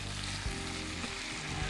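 Tomato pieces cooking in a pan give off a soft, steady sizzle, faint and close, with no voices over it.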